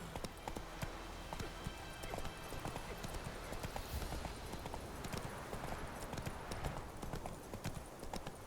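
Roach, the horse in the video game The Witcher 3, trots with quick, continuous hoof clip-clops over a rough, noisy ambient bed at fairly low level.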